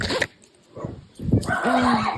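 Sheltie puppies and dogs make short whimpers and a drawn-out whine with a few yips. The sounds come in bursts, close by and moderately loud, with gaps of quiet between them.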